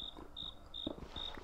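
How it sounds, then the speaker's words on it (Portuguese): A cricket in a modded video game chirps in short, regular high-pitched bursts, four trills evenly spaced, faint and close, with no voices. "Eu não gosto de grilos."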